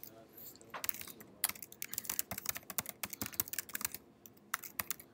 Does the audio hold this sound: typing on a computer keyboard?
yes